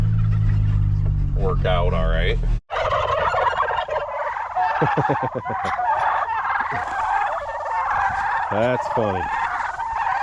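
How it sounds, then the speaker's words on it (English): A flock of about fifty farm turkeys gobbles in repeated bursts, close and loud over steady outdoor noise, with someone talking briefly partway through. "All right, guys, here's the turkeys."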